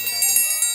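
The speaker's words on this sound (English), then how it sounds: "who can forget the dinner bell?" Dinner bell ringing in a short, bright metallic burst with sustained high tones, lasting under a second with no talk.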